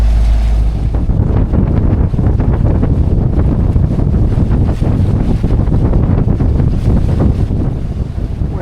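A sailboat motors down a channel under engine power, a steady low engine drone mixed with heavy wind buffeting the microphone throughout.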